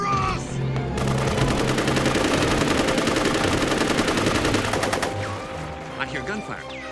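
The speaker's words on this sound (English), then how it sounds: "I hear gunfire." Rapid automatic gunfire rattles in a sustained burst for several seconds, loud and dense, with faint voices before and after.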